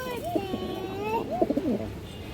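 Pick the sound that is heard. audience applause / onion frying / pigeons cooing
pigeons cooing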